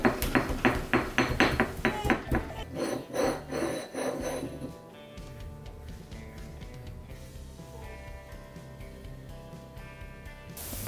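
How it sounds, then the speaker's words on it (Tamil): Ginger and garlic ground on a small stone grinding slab, a rapid series of hard rhythmic stone-on-stone knocks and scraping strokes for about five seconds, then quieter continued rubbing with kitchen clatter. "இஞ்சி பூண்டு பேஸ்ட்டை நம்மளோட குட்டி அம்மிக்கல்ல நான் அரைச்சி சேர்க்க போகிறேன்"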